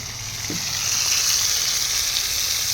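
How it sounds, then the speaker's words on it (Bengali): Shrimp fry in hot oil in a kadai, with a steady, close hiss and crackle of sizzling that swells slightly after they go in and holds evenly, with no talking. "তেলের মধ্যে দিয়ে দেবো চিংড়ি মাছ"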